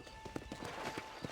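Horse hooves in Red Dead Redemption on Nintendo Switch, a quick series of soft clip-clop footfalls at a trotting rhythm, fairly faint and close.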